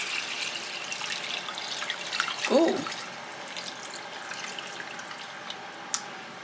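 Eight cups of water pour from a container into a small saucepan while cooking birria: a steady splashing, gurgling stream peaking mid-way, close and fairly loud, with a brief exclamation from a voice.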